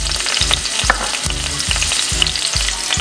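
White onion and pimento seed fry in a pot for Jamaican callaloo, giving a steady loud sizzle broken by repeated rhythmic scraping stirs, close up with no voices.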